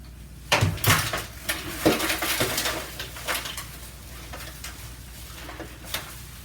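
A roasted Thanksgiving turkey is shifted face down into a dry roasting pan, with a burst of close metallic clanks and thumps that thin out into a few lighter taps.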